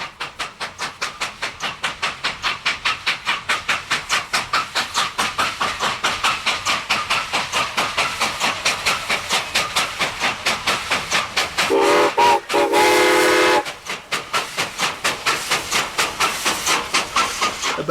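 A Cuban steam locomotive on a sugarcane railway chuffs in a fast, steady rhythm of loud exhaust beats, close by, with a burst of hissing steam and a brief whistle-like tone breaking in partway through.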